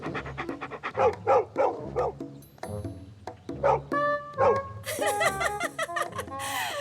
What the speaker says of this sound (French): Arrête d'aboyer.